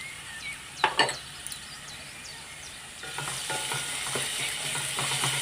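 Onion with ginger-garlic paste frying in a pan for a prawn masala, a few sharp spoon knocks on the pan, then a steady close sizzle with stirring scrapes.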